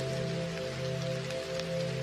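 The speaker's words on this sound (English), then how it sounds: "Notice how it flows with the rhythm of the rain." Rain falling steadily on a surface, a soft continuous patter with a low steady hum beneath it, calm and even throughout.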